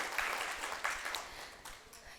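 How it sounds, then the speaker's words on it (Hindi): Audience at a student awards ceremony clapping loudly for a student, a dense burst of applause that gradually thins out. "उनके लिए भी एक बार जोरदार तालियां।"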